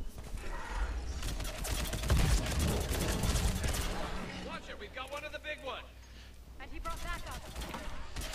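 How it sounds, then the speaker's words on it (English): Rapid gunfire with incendiary Inferno ammunition from a Mass Effect shooter game, dense bursts and fusillades at moderate volume beneath someone speaking throughout. "we're just taking out all the husk or cannibals that we're shooting at here."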